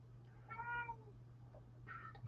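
A cat meows twice indoors, a clear drawn-out meow followed by a shorter one, fairly close, over a steady low electrical hum.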